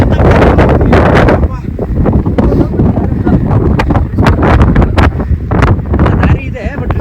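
Strong gusting wind on a hilltop during a trek at Kemmannugundi buffets the microphone in loud, rough roaring bursts, with people's voices mixed in.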